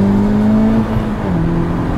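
Honda Civic Type R FK8 hatchback engine and exhaust droning steadily with a slight pitch shift, heard from inside the car, close and loud with no talk.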